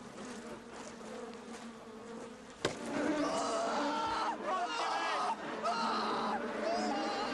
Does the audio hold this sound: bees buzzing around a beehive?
yes